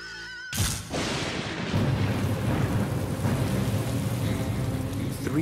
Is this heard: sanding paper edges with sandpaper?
no